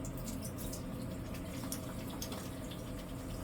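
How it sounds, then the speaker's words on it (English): Water from a tap runs steadily as it is added to foaming facial cleanser on the hands, giving a soft, even splashing with light drips. "Let me add some water here."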